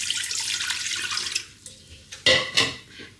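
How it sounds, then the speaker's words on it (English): Water poured into the bottom of a Ninja Foodi pot for steaming, a brief splashing pour that fades into a few separate trickles and splashes near the end. "we're going to start by adding the water to the bottom"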